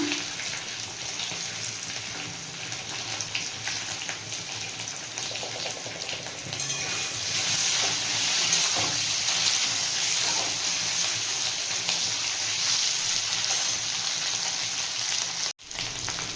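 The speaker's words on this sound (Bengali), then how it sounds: "প্রথমে একটু ভেজে নেব আলুটা" Potato pieces frying in hot oil in a pan: a steady, loud, close sizzle with hissy crackle that runs continuously, swelling slightly midway and dipping briefly near the end, with no voices.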